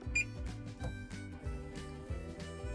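A kitchen timer goes off while chocolate chip cookies bake, a rapid, repeating electronic alarm pattern pulsing in quick bursts, clear and fairly close, with no voices.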